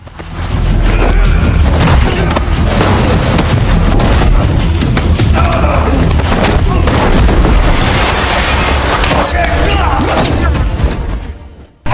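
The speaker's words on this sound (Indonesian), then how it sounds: "Nazri pun menyerang Tony hingga adu tembakan dan pergelutan pun terjadi di antara keduanya" Loud, dense film action sequence with repeated gunshots and booming impacts over a busy score, continuous for about twelve seconds before cutting off.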